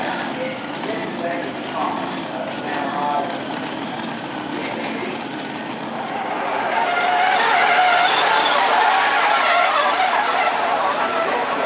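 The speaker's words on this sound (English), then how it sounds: "Darren Otto and Neil McLeod coming up in the Alton and the front engine dragster" A front-engine dragster roars down a drag strip at high speed, its engine noise swelling louder toward the end, with an announcer's voice in the background.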